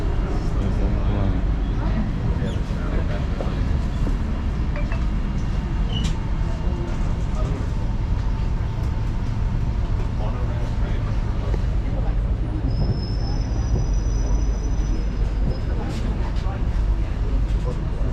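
Singapore MRT train running between stations on the line from Changi Airport toward the city centre, a steady loud rumble of wheels and motor heard from inside the carriage, with a brief high whine late on and people talking.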